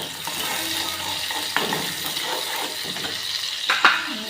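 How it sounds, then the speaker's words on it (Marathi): Onion frying in a pan for amti, a Maharashtrian dal, with a steady low sizzle and a few sharp stirring scrapes and clinks, close by and without talk. "आमटीसाठी कांदा टाकलेला आहे मस्त लाल हो द्यायचा"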